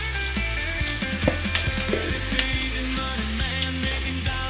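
Steady sizzling of potatoes frying in a pan, close and continuous, with a few scattered clicks and pops over a faint hum.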